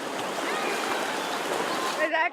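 Rushing river water as people wade across near the Guatemala–Mexico border, a loud, continuous churning flow close by, ending abruptly as a voice cuts in.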